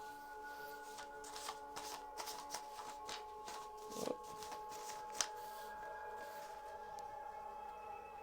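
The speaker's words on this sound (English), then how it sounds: "Let's get some of these cards out." Tarot cards being shuffled by hand, a soft continuous riffling and sliding of card stock close by, with a few slightly louder flicks over a quiet steady background hum.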